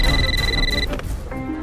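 A telephone rings with a bright electronic trill that stops after under a second, followed by low background sounds.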